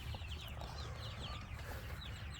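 Chickens on a chicken farm cluck softly and intermittently over a low, steady background rumble, faint and without speech.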